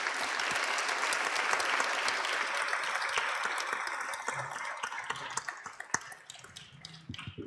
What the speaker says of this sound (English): Can I ask you to please give a round of applause to the panelists